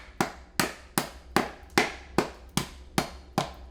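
A hammer taps around a fresh coconut in a steady rhythm, about nine crisp, close knocks with brief decays as the shell breaks off, with no voices.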